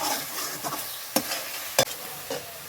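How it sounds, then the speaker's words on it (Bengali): Spice masala sautéing in a pan for chicken curry, a steady broadband sizzle with several sharp scraping stirs of a spoon against the pan, close and alone without talk. "আর সামান্য একটু কষিয়ে নেব, তারপরে আমি চিকেনটাকে ছেড়ে দেবো।"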